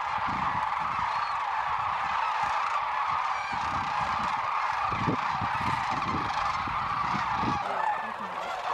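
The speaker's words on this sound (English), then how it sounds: "There's a little flock of snow geese mixed in with the sandhills." A dense chorus of sandhill cranes and a small flock of snow geese calls nonstop at a desert-edge seep near Willcox, Arizona, many overlapping honks and trills filling the scene at a distance.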